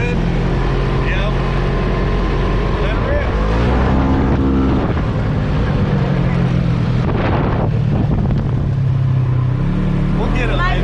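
A used UTV engine idles steadily as it warms up, a loud continuous drone with wind buffeting the microphone, and voices talk over it throughout.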